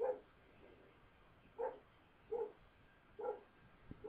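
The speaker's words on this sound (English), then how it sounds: "My dog's going off on something." A dog barks off in the distance outdoors, four quiet, separate barks spaced about a second apart over a low background hum.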